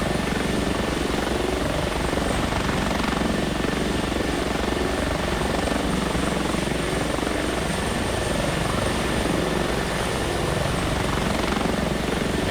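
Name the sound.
H145 helicopter flying in X-Plane 11 video game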